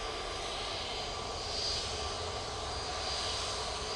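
A Jet2 Airbus A321neo airliner bound for Funchal takes off at Manchester Airport, a steady broad engine roar with hissing jet noise, distant and even throughout, with no talk.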